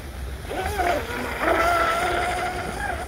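A small brushless electric motor on an RC tunnel hull boat whines steadily over water, rising in pitch as it speeds up, with a faint wash of wind and splashing.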